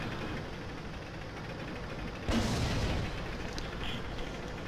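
An artillery shell slams into a tank in World of Tanks, a sudden loud boom about halfway through that rings briefly over steady engine rumble and battle noise, then fades back into the constant background drone.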